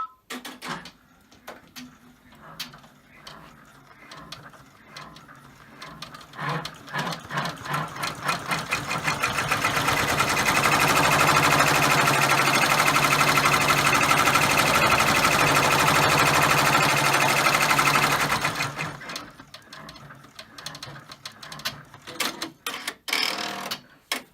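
A multi-needle embroidery machine stitches the final securing run on an in-the-hoop key fob. Its loud, rapid stitching rattle swells in around ten seconds, holds steady, then stops, with quieter handling clicks before and after.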